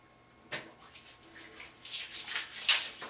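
Lotion being rubbed into skin after a head shave: a sharp first contact, then soft, close, repeated rubbing strokes that build slightly in loudness over a few seconds.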